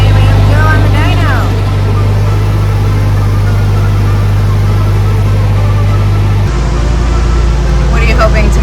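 A Nissan SR20DET-engined car with a stock bottom end runs on a dyno, holding a loud, steady engine drone that drops in pitch near the end, with people talking over it.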